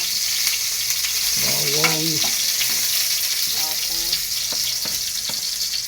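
Mussels sauté with garlic in a hot pan, a close, steady sizzle with occasional stirring clinks and a brief voice-like murmur in the middle.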